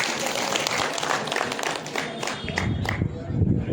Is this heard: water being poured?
no